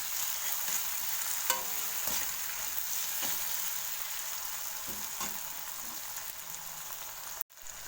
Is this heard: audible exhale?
no